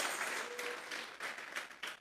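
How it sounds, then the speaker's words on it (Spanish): A church congregation claps together as an offering of praise, a soft, somewhat distant patter of many hands that swells and dips in waves, with a faint voice briefly audible. "Vamos a regalarle ofrenda de palmas al Dios de la gloria para madurar."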